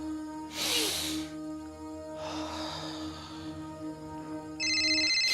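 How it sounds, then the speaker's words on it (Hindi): A phone ringtone plays in a household comedy scene, with electronic tonal bursts sounding in several separate phrases over a steady hum, the last burst loud and sustained. "ताता आपका फोन"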